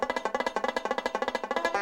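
A banjo is picked fast in a steady, metronomic down-up pattern on the strings. The notes come as an even rapid run of plucked attacks, close and moderately quiet, with no voices.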